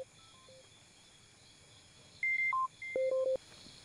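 A landline or mobile phone sounds call signal tones on a Sri Lankan TV show: two short bursts of clean electronic beeps in quick succession, heard alone over a faint background hiss.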